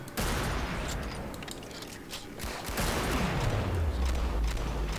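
Rocket launcher fire and explosions in the shooter game Killing Floor: a dense burst of crackling blasts and booms, then a deep falling rumble as a blast fades, loud and close.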